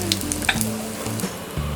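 Cumin seeds and asafoetida sizzle and crackle in hot oil and ghee, a steady close frying hiss with small pops and a faint stir, with no talking.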